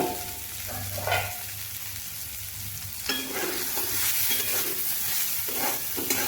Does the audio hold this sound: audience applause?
no